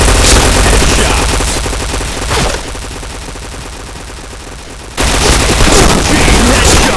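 Rapid automatic P90 fire in a first-person shooter game, dense close bursts that ease into a quieter stretch before another loud volley starts near the end; no talking.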